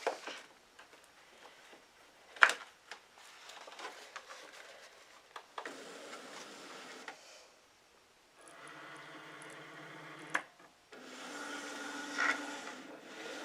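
A Cricut Maker 3 cutting machine drawing in a mat loaded with heat transfer vinyl: soft whirring and mechanical hums in separate stretches, broken by small clicks and a sharp knock, quiet and close with no talking.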